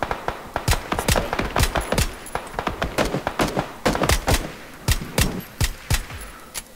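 Gunfire in the battle royale video game PUBG: irregular single shots and short bursts crack repeatedly throughout, some close and loud, others softer and more distant, with no voices.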